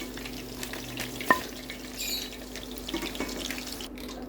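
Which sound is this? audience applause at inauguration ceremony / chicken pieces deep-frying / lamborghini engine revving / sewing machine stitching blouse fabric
chicken pieces deep-frying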